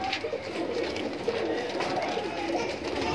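Kale par pigeons in a loft coo softly and repeatedly against a busy, noisy background hum, the low throaty calls blending together throughout.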